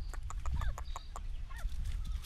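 Chickens cluck in short, repeated bursts nearby, a few birds calling over one another against faint outdoor noise.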